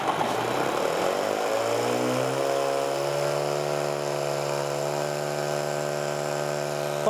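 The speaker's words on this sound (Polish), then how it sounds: "silnik pracuje idealnie, lekutko go rozkręcę tylko" A synchronous brushless electric motor of Kiliszewski's design spins up, its whine rising steadily in pitch over the first few seconds, then holding a constant, loud, even tone with no voices.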